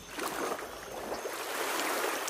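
A small wooden dinghy moves through the Ratargul freshwater swamp forest in Sylhet, with steady water washing and splashing close by.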